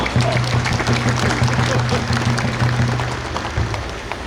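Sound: audience applause welcoming guests

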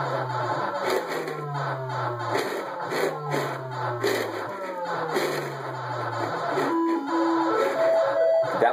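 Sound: extra life sound from the Centipede arcade video game

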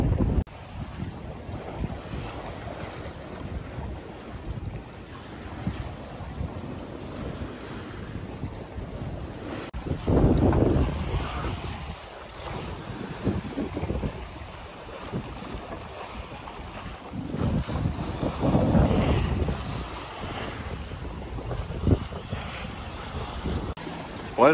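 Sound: sailboat at sea with waves splashing and wind

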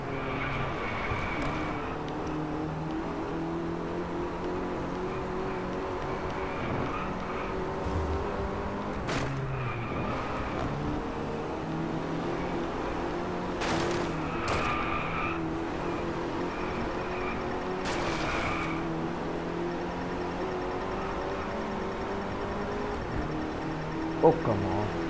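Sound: racing car engines and skidding tires in Driveclub video game

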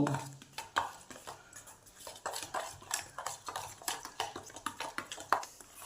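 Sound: mixing chopped onion and ginger paste in a bowl

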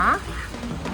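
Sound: duck quacking

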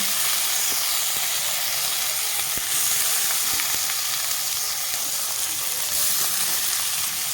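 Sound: soaked Gobindobhog rice frying with cumin

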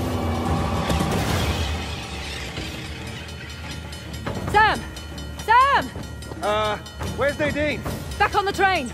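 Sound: train moving in video game Uncharted: The Lost Legacy

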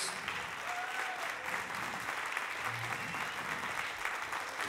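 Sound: applause for the UA Jazz Orchestra

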